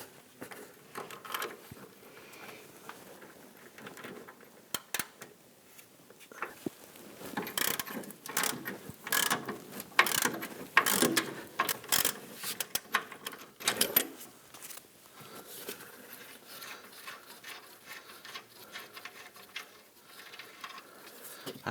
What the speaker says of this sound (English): put my ratchet on the nut side here